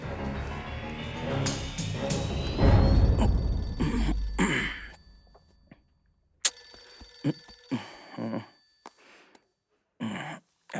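A telephone rings during a scene in a Hindi-dubbed comedy film, mixed with louder background sound at first. It then drops to near silence, broken by scattered short noises and brief vocal sounds.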